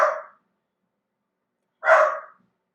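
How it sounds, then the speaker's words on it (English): A pet dog barks twice indoors, two short sharp barks about two seconds apart with silence between, fairly close and clear. "Excuse my dog barking in the background."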